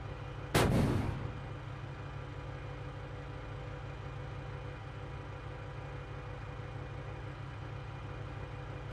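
A single loud cannon shot from an M2A2 Bradley in the Steel Beasts Pro PE tank simulator, one sharp blast near the start over a steady low engine idle that continues afterward.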